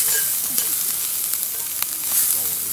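Food, with paella mentioned, is stir-fried in a pan over a campfire outdoors, making a steady sizzling hiss broken by a few quick scraping clicks from stirring.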